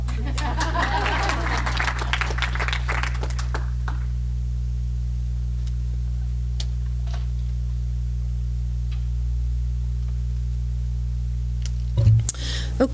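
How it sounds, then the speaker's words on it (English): Attendees at a board of directors meeting give a round of applause that fills the first few seconds and then fades out, leaving a steady mains hum and a few faint ticks. "And a big round of applause."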